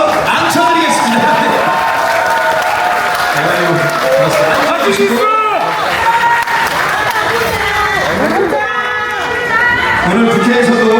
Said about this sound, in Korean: 부승찬 뜨거운 박수로 앉혀드리겠습니다.